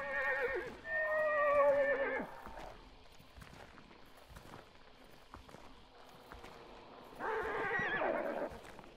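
In the video game Hunt Showdown, a horse whinnies loudly twice, at the start and again near the end, with faint hoof clip-clops and rustling in between.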